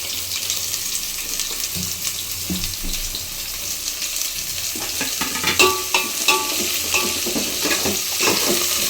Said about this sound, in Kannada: ಚೆನ್ನಾಗಿ ಫ್ರೈ ಆಗಬೇಕಿದು. ಫುಲ್ಲು ಬ್ರೌನ್ ಕಲರಲ್ಲಿ ಫ್ರೈ ಆಗಬೇಕು.